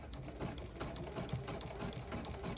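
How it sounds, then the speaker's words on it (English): A sewing machine stitching satin binding across a fold at the corner of a stretch fleece blanket; a fast, even needle whir, close up and steady throughout, with no talking. "Sewing over that fold"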